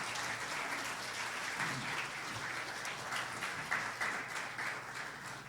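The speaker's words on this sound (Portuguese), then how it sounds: "uma salva de palmas para as mamães nessa noite" A church congregation standing at the end of an evening service claps for the mothers, a sustained, fairly distant ripple of applause with a steady low hum beneath it.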